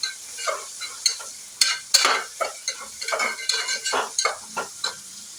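Curry leaves and chillies sautéing in a pan, a soft sizzle broken by repeated scraping and stirring strokes with a spoon, irregular and close.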